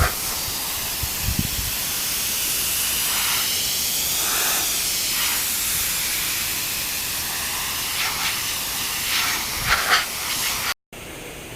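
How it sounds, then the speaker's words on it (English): An Iwata airbrush sprays paint onto a motorcycle fuel tank during a restoration, producing a loud, continuous close-up hiss that stays fairly even before cutting off briefly near the end. "by using the Iwata airbrush, I minimize the amount of overspray over it"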